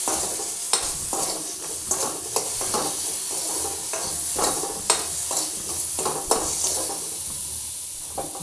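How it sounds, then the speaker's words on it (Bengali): Hog plums fry in a pan with salt and turmeric, giving a loud continuous sizzle under regular scraping and stirring strokes with occasional metallic knocks. "এবার একটু নুন হলুদ দিয়ে একটু ভাজছি।"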